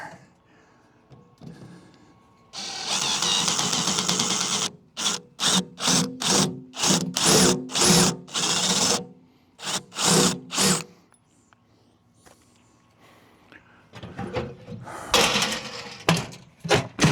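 A power drill whines in repeated short bursts against a stripped Phillips screw while fitting a mailbox, starting with one long run and then many stop-start pulses, close and loud, followed by quieter tool handling.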